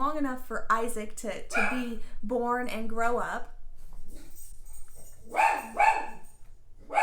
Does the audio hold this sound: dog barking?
yes